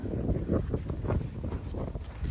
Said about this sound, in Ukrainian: вже такий вітер, одягай капюшон